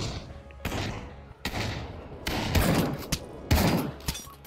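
Shotgun blasts in the virtual reality shooter Pavlov VR, a series of loud, close booming shots spaced roughly a second apart, each followed by a short decaying tail with game noise between.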